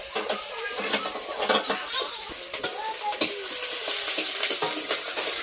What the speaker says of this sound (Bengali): পেঁয়াজ কুচিটা দিয়ে দিচ্ছি প্রথমে